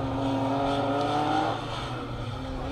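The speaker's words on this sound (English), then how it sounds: "Great to see and hear the BMWs." BMW 325 rally car on a Welsh rally stage during the Severn Valley Stages, its engine droning loud and steady at close range, then easing slightly as it moves on.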